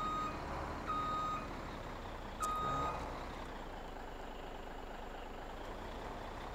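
A truck's reversing alarm in the video game Farming Simulator 2017 gives two clear beeps about a second and a half apart over a low, steady engine idle, with no talking.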